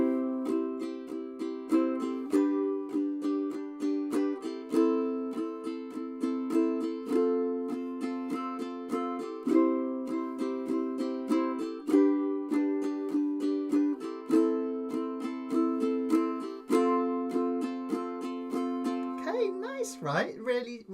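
Ukulele strummed with chords in a walk-running strum pattern, repeated rhythmic strokes on a steady pulse, clear and close, playing alone before a brief scrape at the end.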